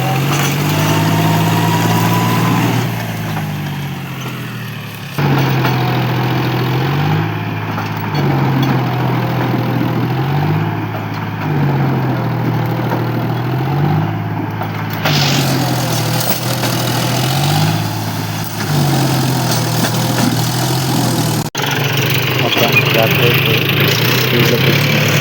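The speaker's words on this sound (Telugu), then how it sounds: "ట్రాక్టర్ అయితే వచ్చింది, చూడండి." A tractor engine runs in a farm field with a steady low droning note that rises and falls periodically as it works, fairly loud and close throughout.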